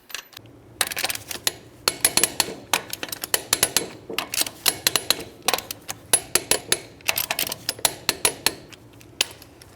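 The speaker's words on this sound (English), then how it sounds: "we're going to torque these lug nuts to 76 foot-pounds" Rapid ratcheting clicks from a torque wrench tightening lug nuts on the rear wheel of a 1999-2003 Toyota Solara, dense bursts of sharp metallic clicks repeating close by over several seconds.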